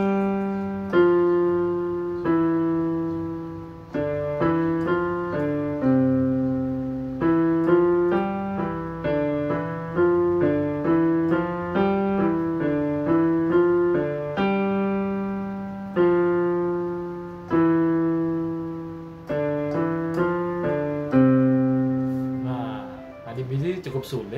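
Piano plays a lively beginner piece, a quick melody of clear repeated notes in steady phrases with bass notes underneath, close and moderately loud, with no talking over it.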